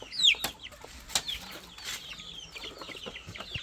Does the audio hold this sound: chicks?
yes